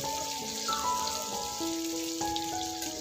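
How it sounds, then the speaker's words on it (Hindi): Beaten egg hits a hot pan of onions and sizzles in a steady, crackling hiss, with soft kitchen tones and a faint hum underneath. "तो अब इसमें डालते हैं अंडा जो हमने बीट किया था"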